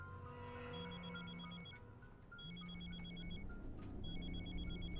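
A telephone rings in repeated bursts, three rings across the span, steady and fairly close, with no talk over it.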